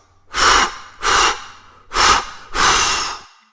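A voice imitates the big bad wolf blowing hard on the little pigs' house: four forceful, breathy blows in steady succession, loud and close, with short pauses between them.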